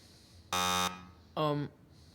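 Two loud, harsh electronic buzzes from a Texas middle school quiz show timer signal that time has run out: a long blast followed after a pause by a shorter one over a quiet room.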